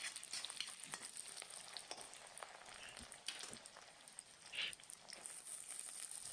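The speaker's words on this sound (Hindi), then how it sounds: "मेथी के पत्ते जब तड़क जाए अच्छे से" Chopped fenugreek leaves fry with onions in a pan, giving off faint, scattered crackles and small pops over a low, quiet sizzle, with no talking.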